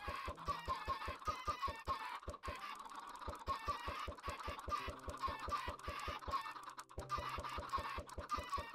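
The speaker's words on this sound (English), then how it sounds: "60 chickens it looks like." Flock of about sixty Minecraft chickens clucking in a steady, busy chorus, with rapid rhythmic tapping beneath and no talk, continuous at moderate level throughout.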